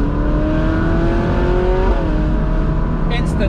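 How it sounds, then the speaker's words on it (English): A Ferrari in race mode accelerating hard, a loud steady engine drone rising in pitch, then a quick gear change that briefly drops the tone before it climbs again, with someone talking over it. "instantly the gear changes are more aggressive. You can feel that surge as I change gear."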